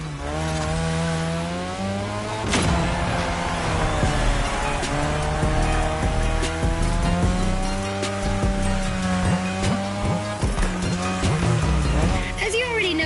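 A car drifting around a drift track in the racing game The Crew Motorfest, its engine revving and wailing in rising and falling pitches while tires squeal continuously, loud and close with a voice talking over it.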